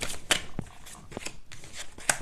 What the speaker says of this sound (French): avec le Magic Luna Love, on va prendre 3 cartes.